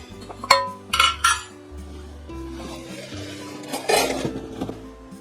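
Silver plate flatware from a Simon George L. Company set clinks and rattles as pieces are handled in a box, with several bright clusters of metallic chinks near the start and again toward the end, separated by quieter shuffling.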